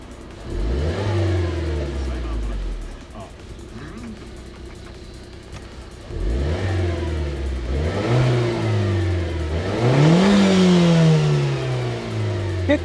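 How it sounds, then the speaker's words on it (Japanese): A Renault Clio Renault Sport Chassis Cup's 1.6-litre 200-horsepower turbo engine revs up hard several times, deep and throaty with rising pitch sweeps, close by and loud, settling between bursts. "やっぱスポーティーな音がしますね。 ちょっと重低音が強いちょっと指導の音でしたけれども。"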